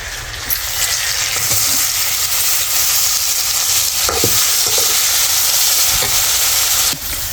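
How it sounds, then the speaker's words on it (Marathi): Stuffed bitter gourds sauté in a pan, throwing off a loud, continuous close-up sizzle and hiss broken by a few knocks and stirring scrapes, with no talking. "आता हे बघा परतायला टाकीचे कारलं."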